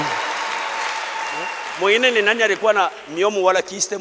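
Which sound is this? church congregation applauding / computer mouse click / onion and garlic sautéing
church congregation applauding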